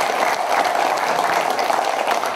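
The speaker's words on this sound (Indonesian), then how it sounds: "Tepuk tangan kalau untuk Dinas Pendidikan Banyuasin" Steady applause from a hall audience at a Dinas Pendidikan Banyuasin event on the TVRI show Gayung Bersambut, dense and continuous throughout without a break.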